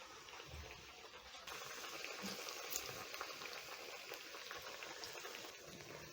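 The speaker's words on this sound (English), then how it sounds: "I'm going to drop in my plantains in the hot oil" Plantains fry in hot oil in a pan at breakfast, giving a steady, soft bubbling sizzle that runs without a break, close but fairly quiet, with no talking.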